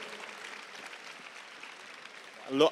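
Audience at an Italian festival event with the Prime Minister breaks into steady, moderately loud applause that fills the whole stretch, swelling briefly near the end as a voice cuts in.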